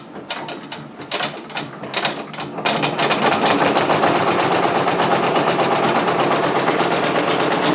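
A Brother PRS100 embroidery machine stitches velcro onto a beanie, starting with a few halting thumps and then building into a loud, close, rapid and steady mechanical chatter that runs on without pause.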